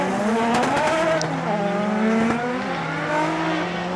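Formula Drift cars, including an S15 on Kenda tires, drift hard at a Japanese round, with loud, sustained engine howls shifting pitch and continuous tire squeal close by, no voice heard.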